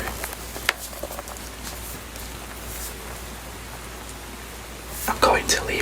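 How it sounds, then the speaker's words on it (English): Steady rain falling at night, a soft even hiss of drops throughout, with a few louder rustles and taps near the end. "I'm going to leave you alone again with the rain"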